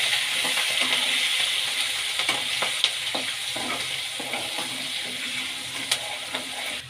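Green chilies and asafoetida fry in hot oil for raw mango chitranna, a constant bright hiss of sizzling broken by occasional pops and stirring clicks.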